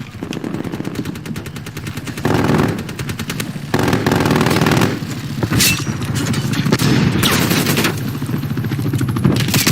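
Rapid automatic gunfire bursts from the video game Call of Duty: Black Ops Cold War, loud and close, with sustained rattling volleys and scattered booms filling the whole stretch.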